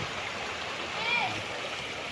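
A river flowing right beside a rural property in Pangil, Laguna, giving a steady broadband rush of moving water that stays fairly constant throughout, with a faint voice-like murmur underneath.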